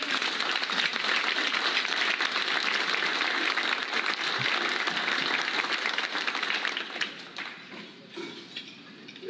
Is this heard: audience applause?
yes